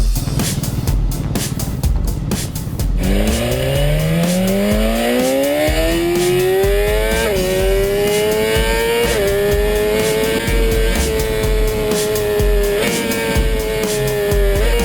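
Motorbikes start up and ride off on a tour through Vietnam, engines revving and rising in pitch as they accelerate, with gear changes stepping the note, loud and close throughout.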